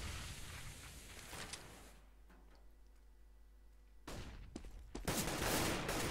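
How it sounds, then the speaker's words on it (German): Gunfire in a Counter-Strike ESL Summer Relegation match on the de_nuke map: dense bursts of shots at the start, a quieter stretch with faint ticking and a low hum, then loud clustered volleys returning near the end. "Oh, netter Schuss von Vinci."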